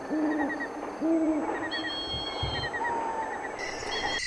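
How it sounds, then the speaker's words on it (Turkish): Owl chicks call in short, wavering tonal bursts, repeated several times over a steady hiss, with thin high whines running alongside and no voices. "Yavruların sızlanmaları başladı. Anlaşılan yine acıktılar."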